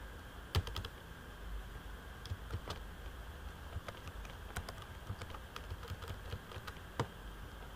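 Quiet, irregular clicking of keys on a computer keyboard while entering text into an MS Word resume document, with a few sharper key strikes standing out over a low steady background hum; no one speaks.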